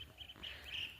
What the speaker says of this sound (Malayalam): കുറേ കിളികൾ